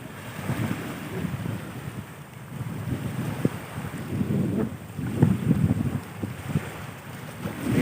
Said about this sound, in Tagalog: malakas ang hangin dito sa amin ngayon.